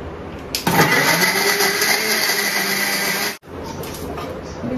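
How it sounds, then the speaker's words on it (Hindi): An electric kitchen grinder whirs loudly, blending an avocado sandwich mixture with a pinch of salt. It starts abruptly, runs steadily for a few seconds, cuts off briefly, then resumes with a quieter hum as someone talks. "अब इसे कर देंगे ग्राइंड।"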